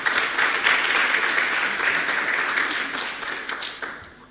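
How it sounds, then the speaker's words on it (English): Applause from an audience at a university partnership event, a full round of steady clapping from many hands that swells early, holds, then tapers toward the end. "Let's give Babawa another round of applause, please."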